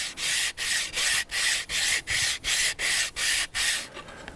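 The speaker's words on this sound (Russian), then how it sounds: "Наждачку берем сначала крупную, крупнозернистую, затем мелкозернистую для окончательной доводки." Sandpaper rubs back and forth on wood by hand in ten even, regular strokes, each a loud, close, hissing scrape with short pauses between, fading out at the end.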